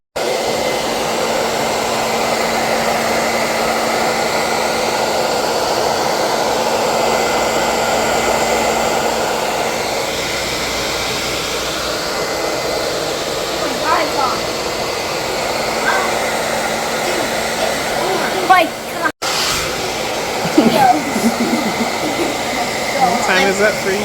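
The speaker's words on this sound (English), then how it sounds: "I'm just going to diffuse it" A hair dryer with a diffuser runs continuously, loud and close, drying a young boy's hair styled with defining gel, a steady roaring whoosh that cuts off briefly near the end, while someone talks over it.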